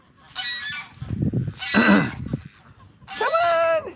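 Farm geese and ducks honk in three loud bursts close by, harsh squawks mixed with lower quacking between them.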